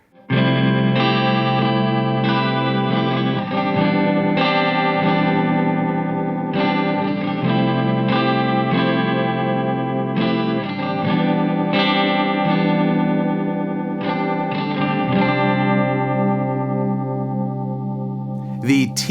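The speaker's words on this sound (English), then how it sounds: "it does the pitch shifting just like the PS5, but it sounds even nicer." Guitar played through a Boss PS6 Harmonist pitch shifter pedal, with layered shifted harmonies over sustained chords and riffs, heard loud and continuous with a chorus-like shimmer.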